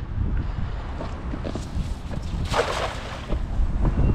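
Strong wind gusts buffet a small fishing boat at sea, a loud, rough rumble with a sharper rushing surge near the middle and no talking.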